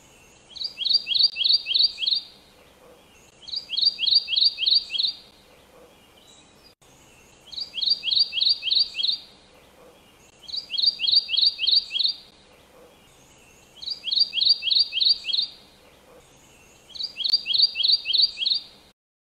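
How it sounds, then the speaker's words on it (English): Kentucky warbler singing a bright, rolling phrase of rapid repeated notes, six clear bursts spaced a few seconds apart, close and loud over a quiet background. "let's listen to a little bit of a Kentucky warbler bird song"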